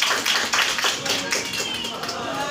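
Brief burst of hand clapping from a crowd welcoming the opening of a seminar and anniversary event, quick and fairly loud, with voices mixed in.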